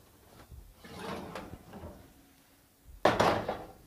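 An oven door opens to bring out a tray of roasted sweet potatoes and butternut squash, giving soft handling bumps and then a sharp, loud clunk near the end, with no talk.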